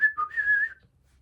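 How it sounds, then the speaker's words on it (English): A single person whistles a short tune, a quick run of clear, bright notes lasting about a second, close and alone with no talk, then fading into quiet. "Maybe you just need to whistle a tune and that's your password"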